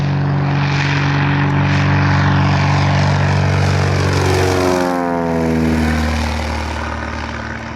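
A small propeller plane taking off from an airstrip at Glacier View, Alaska, its engine a loud sustained drone that peaks and then slides downward in pitch as it passes and climbs away.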